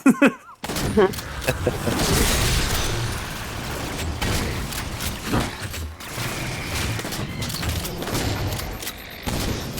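Rapid shotgun blasts and surrounding gunfire in the Halo 4 shooter game, a dense volley of sharp booms and pops repeating over several seconds with muffled battle noise between shots.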